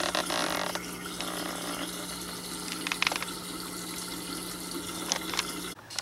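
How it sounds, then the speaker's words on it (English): Water drains steadily from a residential water heater, a continuous gushing and splashing flow with a few sharp clinks, ending abruptly near the close. "So this helps us put air back into the system and let us drain the heater here."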